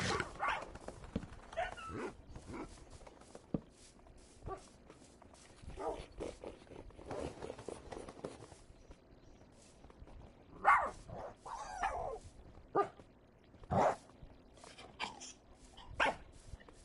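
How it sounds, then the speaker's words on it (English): Several puppies bark intermittently in Minecraft Bedrock Edition, scattered yips and barks of varying loudness over soft footsteps and background game ambience. "I love having a lot of pups in this game."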